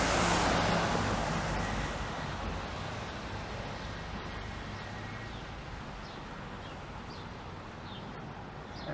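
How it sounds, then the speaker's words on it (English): Vehicle traffic rumbles along a busy main street in Toronto in March, a loud, continuous wash of passing cars that eases slightly as it goes on, with no voices. "how noisy these main streets are, and all the vehicle traffic"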